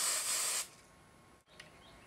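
A short burst of hairspray onto a braid hisses for about half a second, close and steady, then cuts off, followed by faint room noise and a tiny click.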